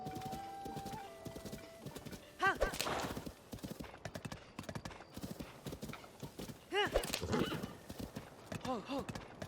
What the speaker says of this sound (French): C'est mon cheval de Breath of the Wild!